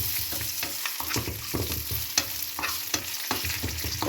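Raisins frying in ghee for a Kerala-style cherupayar parippu payasam, stirred close up: a steady sizzle under rhythmic spoon scrapes and clacks against the pan, repeating roughly every half second.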